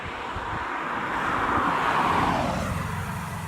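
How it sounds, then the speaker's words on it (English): Fast road traffic passes at a junction, one vehicle's whoosh swelling and fading over steady wind rumble nearby. "now that I've pulled up to the junction, there's been nothing but traffic."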